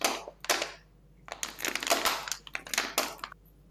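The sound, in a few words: crunchy shoulder joints cracking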